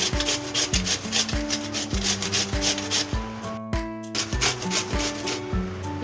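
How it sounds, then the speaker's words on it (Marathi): Cabbage is grated on a steel grater, a steady series of rhythmic scraping strokes, close and continuous, with a short pause midway before the rasping resumes. "इथे मी एक स्टीलची किसणी घेतली आहे, याने आपण याला किसून घेऊया।"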